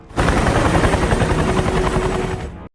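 A loud helicopter in an action film roars steadily with rapid rotor chopping, close and continuous, then cuts off abruptly.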